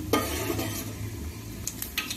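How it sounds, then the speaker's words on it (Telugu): Mustard-style tempering seeds sizzle and crackle steadily in hot oil in a pan while pappucharu is being made, a dense close frying hiss broken by a few sharp pops and light metallic clinks. "తాలింపు చిటపడలాడాలి"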